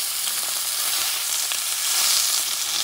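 A ribeye steak sizzles loudly and steadily in a hot pan, a dense continuous hiss with no voices over it.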